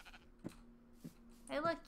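A sheep on a small farm gives a couple of short bleats followed by a louder, wavering bleat near the end, while a person nearby calls out encouragement.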